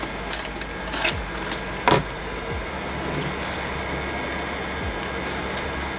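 A Voron 2 3D printer with a hardened nozzle runs a print in glow-in-the-dark filament, giving a steady faint mechanical whir with a few clicks and short stepper-motor chirps near the start.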